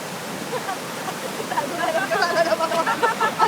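Hidden waterfall in a cool outdoor spot, rushing steadily as broadband water noise that swells in the second half, with people chatting faintly over it.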